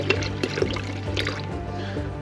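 Distilled water gravity-feeding into the cooling system of a supercharged 5.3 LS engine, a soft close trickle and gurgle with scattered drips over a low steady hum.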